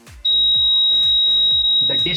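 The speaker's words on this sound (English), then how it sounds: "you can see the buzzer and the LED alert" A buzzer alert on an ultrasonic-sensor elephant detector sounds as a loud continuous high beep that runs steadily and close by, with a voice talking over it.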